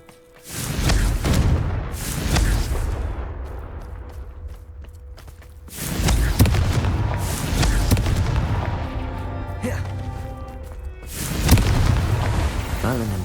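Repeated Confringo fire spells detonating in the game Hogwarts Legacy, three loud booming bursts a few seconds apart, each with a rumbling tail, amid continuous game ambience.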